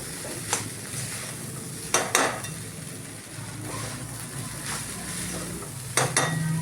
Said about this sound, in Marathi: परत एकदा मिक्स करून घेते.